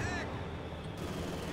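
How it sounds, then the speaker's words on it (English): Strafing run in Company of Heroes 2, assault support doctrine: a dense, continuous rattle of rapid gunfire and impacts roars at steady loudness throughout, with a brief whistling pass at the very start. "Strafing run coming in here by Chukonoku."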